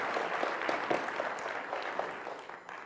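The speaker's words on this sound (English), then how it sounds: "So give yourselves a big round of applause." Audience applause in a hall at a talk, a continuous spread of clapping from many hands, moderately loud and steady throughout.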